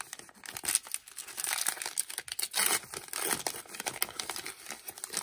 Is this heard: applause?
no